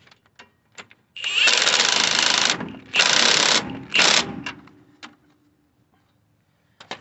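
Power tool running on a nut of the upper control arm of a 1999 Ford Ranger, three loud sustained whirring bursts about a second each, close, with brief clicks before and after.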